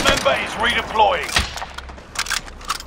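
Enemy gunfire in Call of Duty: Warzone, a few sharp shots and a burst of fire under game voice callouts, with further scattered distant pops afterward.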